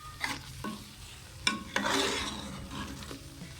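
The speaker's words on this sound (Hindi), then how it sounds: "पेठा कद्दू और चने जले ना, आपने चमचा हिलाते जाना है।" A spoon stirs pumpkin and black chickpeas in a sizzling pan, with a few sharp scraping strokes over a steady, soft frying hiss.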